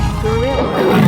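In a 3D animal sliding game, a tiger lets out a short, loud, growling roar close up, with a brief rising tonal snarl inside the rough rumble.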